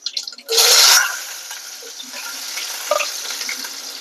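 Chopped onions hit hot oil already crackling with mustard seeds, fenugreek and cumin for a village-style prawn curry, giving a loud sudden sizzle burst that settles into a steady, softer frying hiss with small pops.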